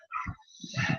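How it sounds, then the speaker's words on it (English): Dogs at a dog pound next door give a brief yip and a short muffled bark, faint and somewhat distant. "My sincere apologies about the dog pound next door."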